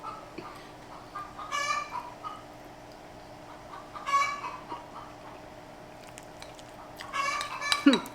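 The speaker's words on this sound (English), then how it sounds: "the chicken screaming" A backyard chicken clucks and squawks in several loud bursts over a steady low hum of a running laundry machine, the calls arriving in uneven clusters about every two to three seconds.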